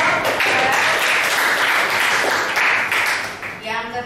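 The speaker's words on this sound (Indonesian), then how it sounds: "Tepuk tangan dong." Brief classroom applause as a teacher prompts students to clap, a scattered burst of hands heard under and between voices, fading toward the end.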